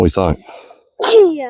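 A single sharp sneeze bursts out loud and close during work on a pig-plot fence, following a brief exchange of talk and a short pause.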